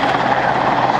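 A rescue helicopter climbs with a steady, loud rotor and engine roar at an airshow, holding an even level throughout the short stretch with no break.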